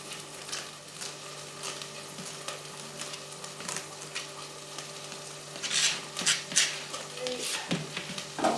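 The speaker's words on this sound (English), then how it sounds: "Beef is still sizzling nicely away." Beef for a stew sizzles steadily in a pan, a faint crackling hiss with occasional louder bursts of frying and stirring, while a person talks quietly nearby.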